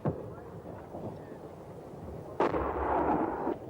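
Artillery guns firing during the 1982 Falklands War, near Stanley and Sapper Hill: a dull boom opens, then a sharp, loud blast near the middle is followed by a long rumbling roar.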